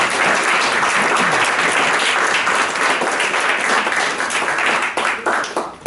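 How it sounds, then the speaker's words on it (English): Loud applause from an audience, a dense burst of many hands clapping that holds steady and then thins out toward the end. "let's give him a round of applause"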